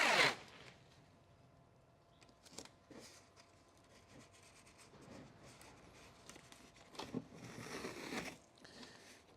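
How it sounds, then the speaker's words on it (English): Adhesive tape being pulled and pressed along buckets on a ute assembly, heard as a loud rip at the start followed by quiet rubbing, crinkling and further tearing bursts close by. "just taping along the buckets there"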